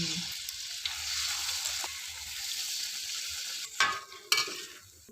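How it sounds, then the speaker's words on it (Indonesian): Tempeh frying in a pan of hot oil, a steady close sizzle with soft stirring and a couple of sharp clatters near the end, no talk. "Lanjut goreng lagi."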